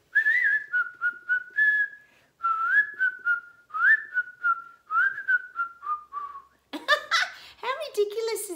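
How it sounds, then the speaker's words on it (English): A person whistles a melodic tune in clear phrases, close and prominent, followed by a burst of laughter and chatter at the end. "Jiminy Cricket, whistling while you work."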